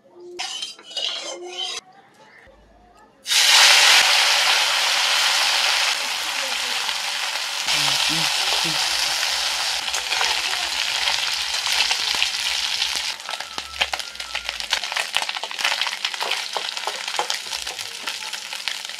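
A piece of fish coated in milk powder frying in hot mustard oil, a loud continuous sizzle that sets in abruptly and keeps going with clinks of a utensil against the pan and brief voices in the background.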